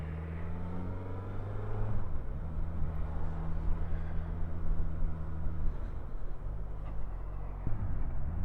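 A 2024 Suzuki GSX-S1000GX motorcycle rides along with a fairly quiet, even engine hum whose pitch rises and falls as it shifts through the revs.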